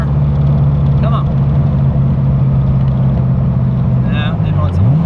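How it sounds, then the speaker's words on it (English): Car engine fitted with FiTech fuel injection, driven under a bridge while downshifting, giving a loud steady rumble with rising and falling revs. Any pops are barely separable from the engine drone. "Let's see if I can downshift again and get it to pop a little more."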